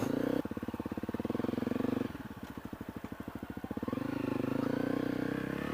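A 2017 Honda CRF250L motorcycle rides off road on a trail, its single-cylinder engine thumping in a rapid, pulsing rhythm that dips and then steadies, close to the rider.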